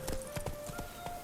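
Quick rhythmic hoofbeats of the horse Roach galloping in The Witcher 3, several sharp clip-clop strikes in fast succession over a faint game music tone.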